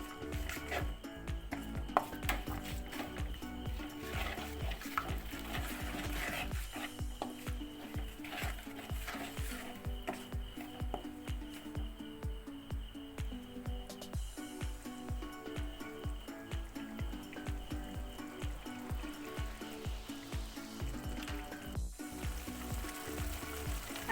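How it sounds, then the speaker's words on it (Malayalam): Puliyinchi, a tamarind curry with jaggery, bubbles and sizzles in a pan while a spoon stirs it with steady scraping and clinking strokes, close up and continuous with no talk. "ഇനി ആ ശർക്കരയൊക്കെ നന്നായിട്ട് അലിഞ്ഞ് വരുന്ന നേരം വരെ നമുക്കൊന്ന് ഇളക്കി തിളപ്പിച്ചെടുക്കാം"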